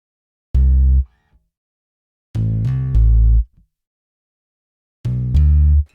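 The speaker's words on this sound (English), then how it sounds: "And then adding the sub down below makes it sound like this." A heavy bass riff plays in three separate phrases, with a booming low sub layer underneath the plucked and synth bass tones.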